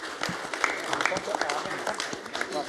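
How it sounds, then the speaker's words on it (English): Applause ripples through the audience at a boxing press conference, a dense, moderate clatter of clapping mixed with crowd murmur and voices talking over it. "You've got a round of ready applause."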